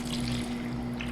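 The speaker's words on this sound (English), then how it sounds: "I'm going to pour them into this bigger container" Hot oils for cocoa butter liquid soap paste are poured into a bigger container, making a steady, close trickling and splashing that lasts about a second.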